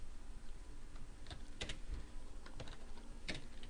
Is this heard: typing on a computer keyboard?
yes